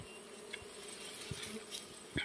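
Dwarf honey bees swarming around a large nest on a high hillside, a soft continuous insect buzz with a few closer passes standing out briefly, no voices.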